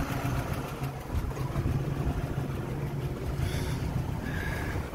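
A 2005 VW Golf Mk5 with a 1.6 engine runs at a rough idle with the heater on. It makes a steady, close engine rumble that wavers slightly and continues without a break.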